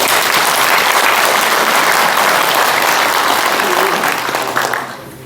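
A crowd at a Korea–US relations book launch applauds to welcome a party leader, with loud, sustained clapping from many hands, partly under voices, that tapers off and fades near the end.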